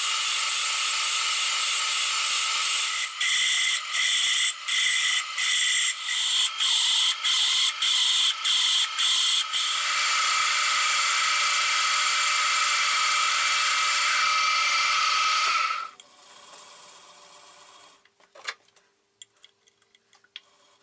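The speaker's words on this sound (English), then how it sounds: "next thing to do is here in the center bore a hole of 28 millimeters" A lathe bores a 28 mm centre hole in a gear: a loud, steady high whine with rapid rhythmic ticking that cuts off abruptly, leaving faint scattered clicks.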